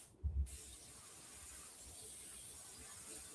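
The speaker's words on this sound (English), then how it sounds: "if you look at where the airbrush is spraying" An airbrush sprays paint in a steady, close hiss that runs almost the whole time, after a short burst of louder air at the start, with no talking.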